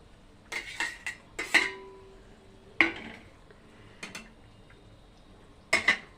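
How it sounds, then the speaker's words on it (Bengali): Fried okra tipped into a simmering pot of curry after the lid comes off, heard as a few sharp metallic clanks and clinks of pot and utensil spaced across several seconds, close by with quiet gaps between. "ঢাকনাটা তুলে আমি এবারে এখানে ঢেঁড়স ভাজাগুলো দিয়ে দিচ্ছি।"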